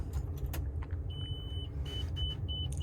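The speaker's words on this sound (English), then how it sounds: "That's beeping, so that's good." Steady Kubota tractor engine rumble with a high electronic dashboard beep sounding in short repeated pulses, one longer beep then several brief ones.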